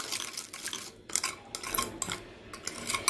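A spoon briskly beats coffee in a cup to whip it for homemade cappuccino, producing rapid, uneven bursts of metallic clinking and scraping with brief pauses between strokes.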